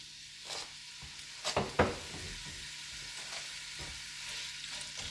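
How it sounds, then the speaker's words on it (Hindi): Two medium onions, finely sliced, dropped into hot oil, giving a sudden crackling sizzle after a couple of sharp clatters, then a steady close frying hiss with occasional stirring scrapes. "अब मैंने 2 मीडियम साइज के प्याज जो कि मैंने बारीक स्लाइसेस कर लिए थे, ये मैं इसमें डाल दूंगी"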